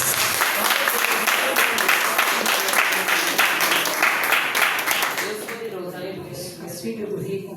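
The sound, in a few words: church congregation clapping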